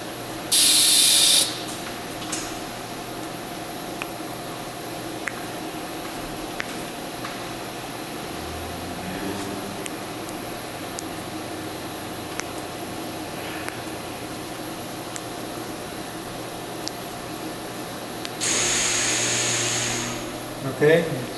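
An IDI 303 pump dispenses during a source inspection, producing short loud hissing sprays near the start and end over a steady mechanical hum.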